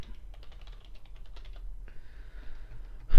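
Keys clatter on a computer keyboard in quick irregular bursts during an online Netrunner card game, close and alone, with a short pause partway through and a louder thump at the very end.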